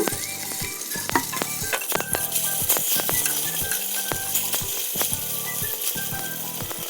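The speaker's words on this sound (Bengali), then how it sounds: "সেই মাছগুলো আমি তেল গরম হওয়ার পরে তেলের মধ্যে দিয়ে দিলাম।" Fish sizzling in hot oil, a steady crackle broken by repeated sharp clinks and scrapes of a utensil against the pan.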